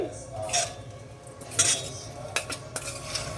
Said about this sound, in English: Spoon and just stir that all in.